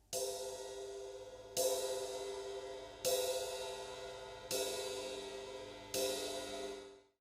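A drumstick hits the edge of a cymbal five times at steady intervals. Each strike gives a full, crashing metallic wash that sustains and decays slowly until the next one, heard up close and alone.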